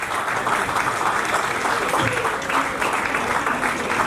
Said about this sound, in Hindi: ज़रा एक बार ज़ोरदार तालियां बजाइए